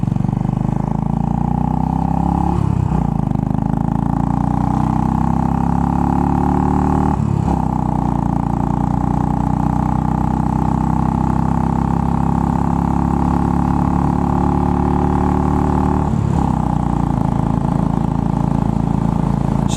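A Royal Enfield Bullet 500 motorcycle engine runs steadily and loudly up close, a low thumping single-cylinder drone with a few brief dips and rises in revs across the whole stretch.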